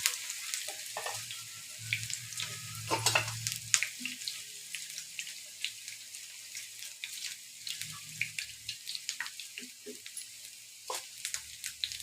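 Puffed rice pakoras fry gently in oil over low heat, a steady soft crackle and hiss with scattered pops and a few low thumps from handling nearby.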